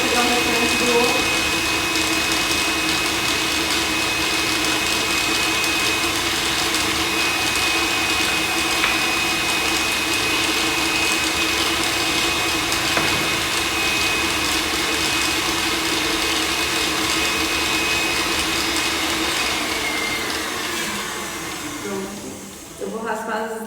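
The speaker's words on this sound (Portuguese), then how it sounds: "eu não vou desligar a batedeira, ó" A kitchen stand mixer beats cookie dough for banoffee-filled cookies, giving a steady loud motor whir that holds almost unchanged before tapering near the end.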